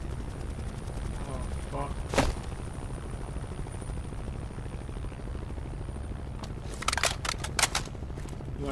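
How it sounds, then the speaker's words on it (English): Helicopter in the Call of Duty Black Ops Cold War campaign mission Redlight Greenlight, a steady rotor drone beneath sharp gunfire bursts and a man's brief exclamation. "You want to take out the heli?"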